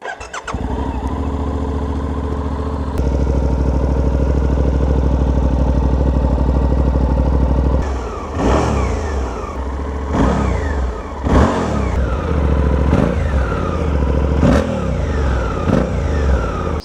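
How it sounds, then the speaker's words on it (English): A 2024 Suzuki V-Strom 800 RE motorcycle idles with a deep, steady exhaust burble, then is revved hard several times in sharp, rising bursts close by. "let's just have a little listen to that exhaust note"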